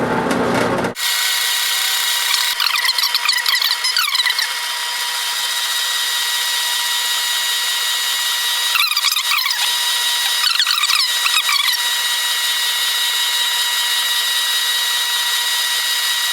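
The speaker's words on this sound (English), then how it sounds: "It's just a burnishing tool that's chucked up into my drill press" A drill press spins a burnishing tool against a leather holster edge, a steady high whine with short bursts of rubbing friction recurring several times, close and loud.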